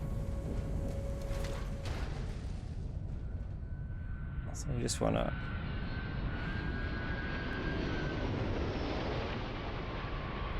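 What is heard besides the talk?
spaceship landing in video game Starfield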